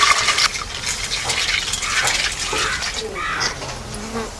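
Half a kilo of pea seeds poured into one litre of water for seed treatment, giving a steady close gush and splash of liquid that runs continuously, with faint bird caws in the background.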